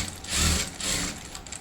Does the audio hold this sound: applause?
no